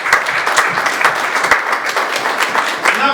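Church congregation clapping in praise during a French-language service, a lively, fairly loud burst of many hands with some sharp individual claps standing out, no talk over it.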